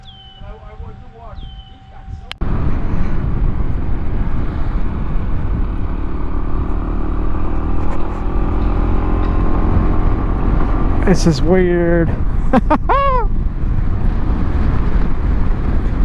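A Honda ADV 150 scooter at full throttle on a top-speed run, a loud steady engine drone with heavy wind rush after a brief quieter start, a rider speaking briefly over it.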